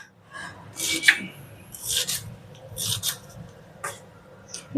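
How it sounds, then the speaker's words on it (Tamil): An onion being cut finely with a knife for mixed vegetable raita: a few distinct rasping strokes about a second apart, close and moderately loud, with no talking. "வெங்காயத்தை வந்து இந்த மாதிரி கட் பண்ணிக்கோங்க"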